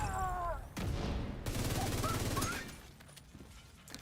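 Gunshots in a shooter video game, with a few loud sharp reports over a busy game soundscape of effects and background tones.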